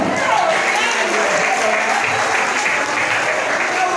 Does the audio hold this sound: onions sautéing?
no